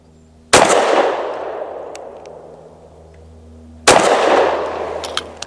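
Two loud, sharp pistol shots from a Tisas PX-9 Duty Comp firing SIG 365 V-Crown 115 grain ammunition, spaced about three seconds apart, each with a long ringing decay at an outdoor range.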